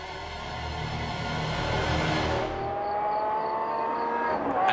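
A Lamborghini Aventador S with a 740-horsepower naturally aspirated V12 holds a loud, steady engine drone that swells and shifts tone partway, the pitch climbing slightly toward the end.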